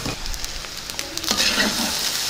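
Beetroot rice is stirred in a pan with the stove just switched off, a steady close sizzle with scraping, mixing sounds.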